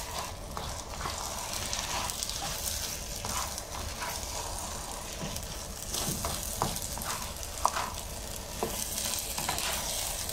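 Eggplant stirred with a little oyster sauce in a hot pan, a steady close sizzle and frying crackle with scraping stir strokes throughout, no voices.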